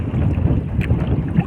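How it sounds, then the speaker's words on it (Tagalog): Strong wind buffets the microphone while fishing outdoors, a loud, steady low rumble with gusty swells and no voices. "Mahangin talaga mga lods."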